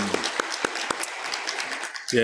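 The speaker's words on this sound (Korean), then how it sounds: "우리를 지키시는 하나님께 영광의 박수를 드리겠습니다." Church congregation clapping in praise during a Korean worship service, a dense patter of hand claps at steady volume through the whole stretch, with some sharp individual claps standing out.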